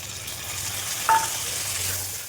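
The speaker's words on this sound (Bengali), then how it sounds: "পেঁয়াজ একসঙ্গে কেটে রেখেছি এটা দিয়ে দেবো এটা একটু লাল লাল করে ভেজে নেবো" Chopped onions frying in a pan until reddish, a steady broadband sizzle with one brief clink near the middle, no voices.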